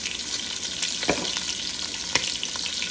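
Cabbage fries in a hot pan with a steady, close sizzle and crackle, broken by a few sharper pops and stirring clicks; no voices.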